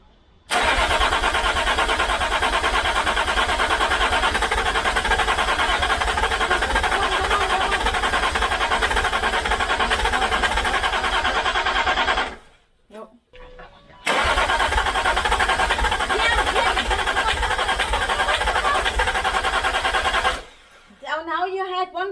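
A rebuilt car engine without a muffler cranks loudly and continuously in two long attempts, with a rapid rhythmic churning that never catches, separated by a short pause, and a voice speaks briefly at the end.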